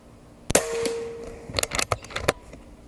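An Umarex Origin .25 airgun fires once with a sharp crack, followed by a ringing metallic ping, then a quick run of clicks and clatters as it is handled.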